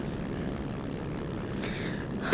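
A Cessna 152 propeller plane in flight gives a steady, loud, droning engine and propeller hum heard from inside, unbroken throughout with a short bump at the very end.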